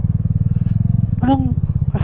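A motorcycle engine idles close by with a steady, rapid thumping pulse while it is eased into a parking spot, and voices talk briefly over it.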